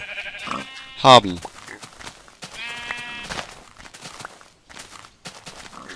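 A Minecraft sheep lets out a sharp, close bleat amid soft blocky footsteps, with a second fainter bleat following while someone talks casually over the game sounds.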